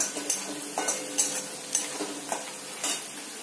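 Chopped onion frying in butter and oil in a pan for desi-style pasta, a steady sizzle broken by regular scrapes and clinks of a spoon stirring.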